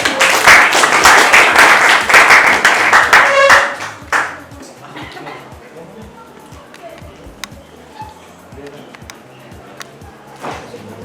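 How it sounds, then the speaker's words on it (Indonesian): A classroom full of students applauds group 8, dense rapid clapping for about four seconds that then fades into scattered claps and quiet room noise with some voices. "Beri aplaus buat kelompok 8"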